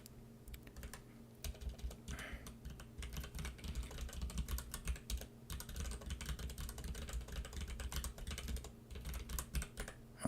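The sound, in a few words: typing code on a computer keyboard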